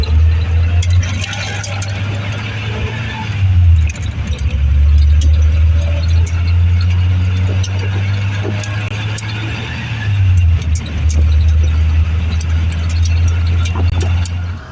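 A small pocket sports car drives on the road, its engine a loud, low droning hum that dips and rises twice as it changes pace, with road noise close around it.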